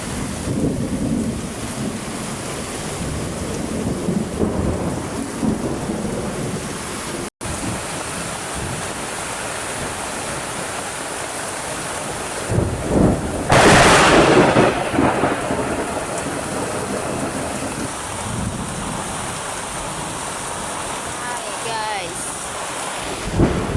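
Heavy rain pours steadily, with rolling thunder rumbling and swelling midway, loud and close, broken briefly by a sharp click.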